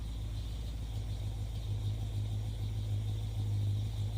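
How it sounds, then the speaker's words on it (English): A 1964 Plymouth wagon engine running at a steady low idle, with an even, rumbling hum that continues without change and no voices. "amazing you don't even have to pump that carburetor to get it to start."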